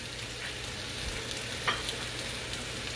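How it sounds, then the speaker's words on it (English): Mushrooms sautéing in a pan give off a soft, steady sizzle and hiss, fairly quiet and even throughout, with one small pop partway through and no voices. "Get the mushrooms going, sauteing nicely."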